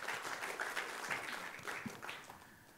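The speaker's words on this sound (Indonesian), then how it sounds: "Tepuk tangan buat Tuhan." A church congregation applauds after a sermon, giving a dense crowd clapping that gradually fades over about three seconds with no talking.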